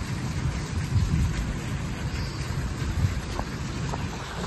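Heavy summer rain pours down steadily with low rolling thunder beneath it, while forceful runoff water rushes past an open gate. The downpour is dense and continuous throughout.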